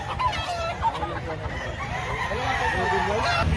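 Fowl at a poultry market in Lipa, Batangas cluck and crow in a steady jumble of calls over a low crowd murmur, fairly close and moderately loud.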